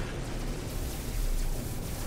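A cannon shot explosion in No Man's Sky during a fight against a pirate dreadnought, heard as a sustained, heavy roaring blast of broadband rumble with no talking over it.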